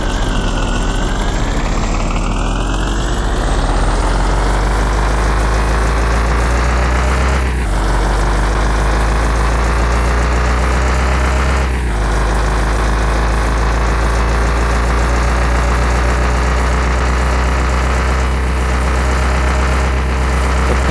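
A car engine idles in the driving game Truck Simulator 25. It holds a loud, steady low drone whose pitch creeps slowly upward, broken by a few brief dips, with no talking.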